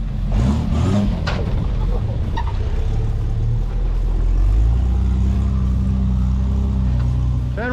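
A Toyota FJ Cruiser engine revs loud and close while driving through flood water, a steady low roar with swells in throttle, and voices talk over it throughout.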